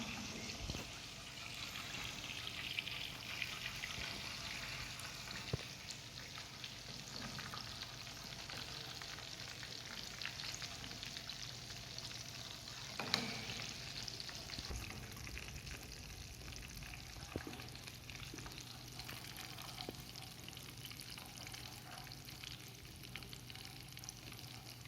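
Gulab jamuns frying in a pan of hot oil while being stirred, a soft continuous sizzle with faint occasional scrapes and clinks, quiet and steady throughout.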